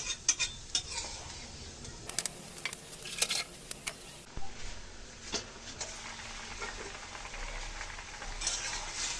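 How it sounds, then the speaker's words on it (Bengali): A spoon scrapes and stirs baila fish chochchori cooking in a pot on the stove, with soft clinks and light sizzling, before a lid is set on top. The sounds are quiet and close, in short, irregular bursts. "একটু নেড়ে চেড়ে ঢেকে দেব।"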